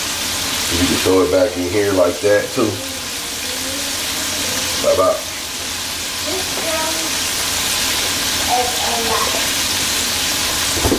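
Chicken sizzles steadily in hot frying oil, a constant hissing crackle, while people talk intermittently over it.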